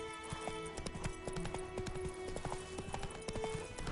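A horse gallops in The Witcher 3, its hoofbeats pounding in a fast, steady clip-clop rhythm over continuous game ambience.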